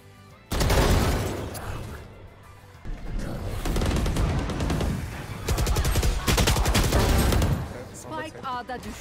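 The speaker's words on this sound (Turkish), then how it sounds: "Ben de arkasından vuracağım." Rapid bursts of gunfire from a Valorant match, loud and close, with dense volleys sustained over most of the span and brief lulls between them.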